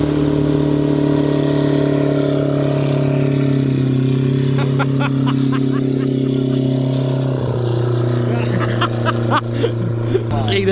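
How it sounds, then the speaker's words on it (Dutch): A V8 boat engine running with an open exhaust and no muffler idles with a deep, loud, steady rumble, its pitch shifting slightly as the revs change, and voices talk faintly over it. "Maar het is gewoon een open uitlaat zonder demper nu."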